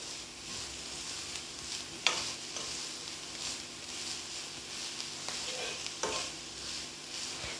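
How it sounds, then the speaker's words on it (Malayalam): Drumstick leaves and grated coconut thoran stirred in a pan, a quiet steady sizzle with periodic scraping strokes of the spoon, close and unhurried. "നമുക്കിനിത് നല്ലതുപോലെ ഒന്ന് ഇളക്കി കൊടുക്കാം."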